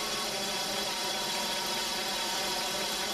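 BMW M60 V8 engine from 1992 with DME 3.3 running after a start with the camshaft sensor signal missing, giving a steady, fairly quiet idle hum with slight roughness throughout, no voices.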